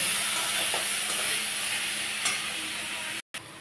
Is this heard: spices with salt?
yes